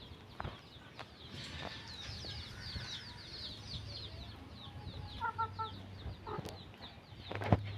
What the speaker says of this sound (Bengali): এখানে আমার ঝুটিয়ালি মুরগি এই বছর কেনা হয়েছে।